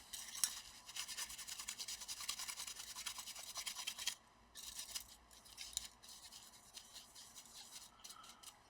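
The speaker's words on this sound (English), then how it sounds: "Let me brush the dust." A brush sweeps dust off an Acer Aspire 5750G laptop cooler in quick, close, scratchy strokes, steady for about four seconds and then lighter and more scattered after a brief pause.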